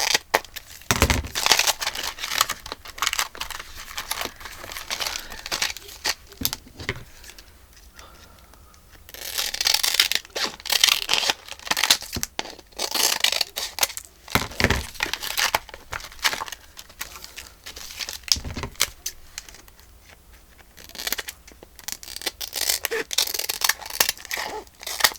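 A silicone stamp sheet is cut with scissors, giving intermittent close snips among rustling, crinkling and handling noises over about 25 seconds.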